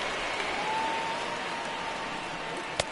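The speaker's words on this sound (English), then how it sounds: "This crowd is into it." Stadium crowd noise from the baseball video game MLB The Show 19 during a Boston Red Sox game, a steady, broad roar of cheering fans with a sharp crack near the end.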